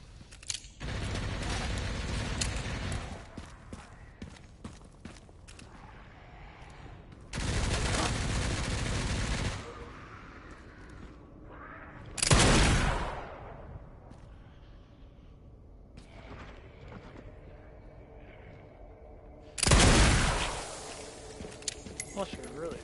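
Gunfire in the survival horror game Resident Evil Requiem, with bursts of shots and loud blasts repeating across the scene and a voice talking over the action.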